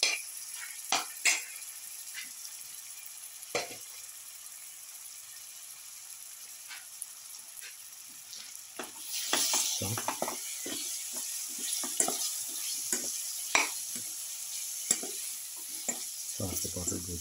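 Bottle gourd pieces with a garlic mixture frying in a pan, a steady soft sizzle with scattered clinks and scrapes as the pieces are stirred, growing a little busier partway through.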